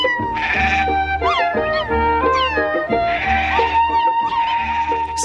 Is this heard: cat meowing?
yes